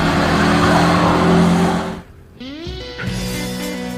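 A 1964 Chevy Nova sleeper engine roars loudly, then the revs drop abruptly and climb again in rising sweeps, close and alone without talk.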